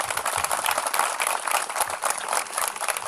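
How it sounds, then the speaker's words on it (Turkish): Dense applause from a crowd at a forestry games event in Bolu, many hands clapping steadily and loudly without pause and with no voices on top. "yüksek bir alkış rica ediyorum"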